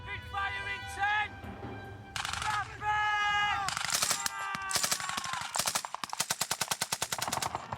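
Rapid bursts of gunfire in 1968 Vietnam War battle footage from Hue, sharp cracking volleys that grow denser and faster toward the end, with a voice audible in the background early on.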